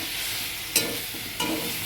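Ivy gourd (kundru) and potato pieces frying in a small amount of oil in a pan, with a steady close sizzle and two short scraping stirs of a spatula.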